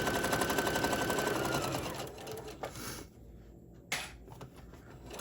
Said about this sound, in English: I'm going to adhere by sewing my base fabric to the Pellon that I have just ironed on from behind